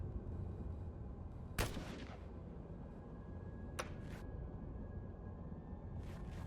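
Brief bursts of gunfire from a low-end SMG in the Xenonauts 2 video game: two sharp, fairly distant shots about two seconds apart over a steady low rumble, with faint crackles near the end and no talk.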